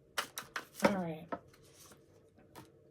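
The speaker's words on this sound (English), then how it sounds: "I've shuffled these cards so many times." Tarot cards are shuffled in a quick run of soft, close riffling snaps and flutters, followed by a few fainter taps in a quiet room.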